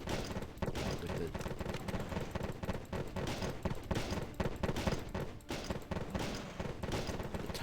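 Gunfire from a video game set while exploring a new planet, aimed at charging creatures: sustained rapid shots hammering almost without pause, loud and close, with occasional brief lulls.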